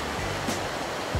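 Swollen, unusually high river flowing behind a house, a brief broadband rushing wash of water, steady and fairly close, with no voices.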